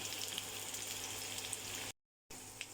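Potatoes and soaked soybean chunks fry in hot oil with turmeric, giving a steady close sizzle with a brief cut to silence before the sizzling resumes.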